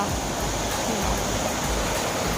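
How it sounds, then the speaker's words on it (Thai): Clear water flows in a stream at a resort water-play spot in Nang Rong, Thailand, making a steady, close rushing hiss with no voices over it. "น้ำใสไหลเย็นเลยค่ะ"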